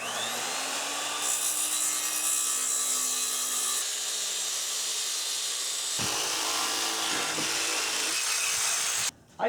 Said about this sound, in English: I'll make these cutouts for the fenders.